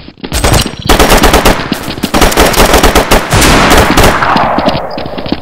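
Gunfire from a weapon in a video game, loud rapid automatic bursts of shots in several long strings with brief pauses between, close and dominant with no talk.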